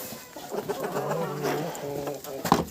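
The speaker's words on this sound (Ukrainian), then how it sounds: "Ця курка, як завжди, проривається сюди, натовп." Several small chickens cluck and murmur close by, pecking at millet grain in a continuous, busy chorus, with a sharper squawk near the end.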